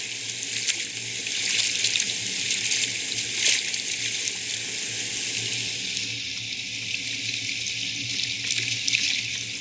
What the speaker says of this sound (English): I add the spatial audio so that there's the sound of river flowing.